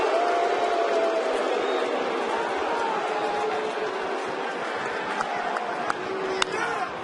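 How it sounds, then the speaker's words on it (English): Angry crowd at a Tigers–Indians baseball game in Detroit roars in a dense, sustained wash of voices, booing and yelling under a play-by-play announcer's talk, with a few sharp pops near the end. "And the crowd is livid"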